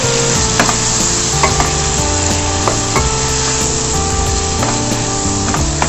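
Grated yellow pumpkin roasts in ghee while being stirred, giving a steady loud sizzle broken by repeated scraping strokes of a spoon against the pan, close up and with no voices.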